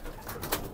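A brief, soft coo from young pigeons, low and murmuring, heard up close.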